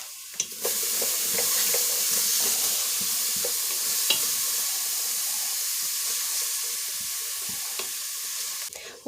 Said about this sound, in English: start sauteing some onions and peppers